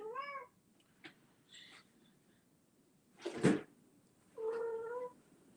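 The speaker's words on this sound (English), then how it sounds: "Y'all hear this cat here over here?" A house cat meows close by, three or four separate cries spaced apart with short quiet gaps, one loud sharp burst in the middle that sounds like a sneeze, and no talking.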